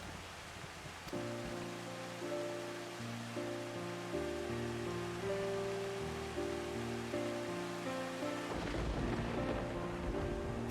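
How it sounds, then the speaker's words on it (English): Thunder rolls over steady rainfall in the Final Fantasy XIV game, with a low rumble building under the rain and music-like tonal layers, the storm swelling again near the end; quiet overall. "Thunder."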